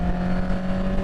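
A 2021 Honda CB650R motorcycle engine runs steadily at close range, a continuous even drone with a strong low hum and no voices over it.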